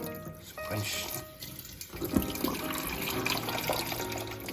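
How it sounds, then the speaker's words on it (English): Cold tap water runs from a faucet into a container, a steady splashing and gurgling stream with a few clunks and shifts in flow as it fills, at moderate volume with no talking. "So let's fill that with cold water real quick."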